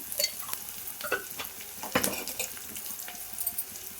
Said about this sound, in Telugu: వేసి కాస్త ఫ్రై చేద్దాము